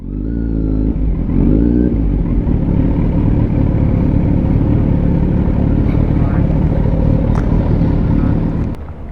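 Several motorcycles from a riding group idle and rev loudly and steadily at close range, with a brief throttle blip near the start and engine noise filling the whole stretch.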